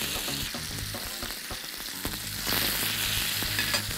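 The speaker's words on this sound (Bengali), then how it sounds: "এখন ঘি দিয়ে আমরা চিকেন পিসগুলোকে ভেজে নিব।" Chicken pieces fry in two tablespoons of hot ghee in a nonstick pan for chicken kabsa, giving a continuous close sizzle with scraping stir strokes throughout and a brief louder surge midway.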